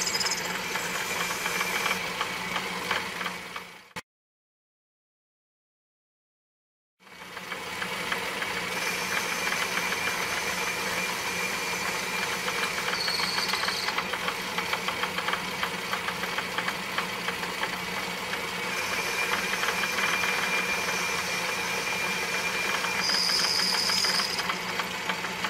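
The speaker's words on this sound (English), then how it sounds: "this is being run by the power drive" An electric power drive motor turns the Z axis of an Atlas lathe with a steady mechanical hum and rattle. It runs alone for the whole stretch, broken by a few seconds of silence near the start.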